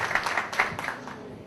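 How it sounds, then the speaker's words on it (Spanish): A brief burst of audience applause for a nun, a few seconds of scattered hand claps in a room that quickly thin out and fade. "Un aplauso muy fuerte para la hermana."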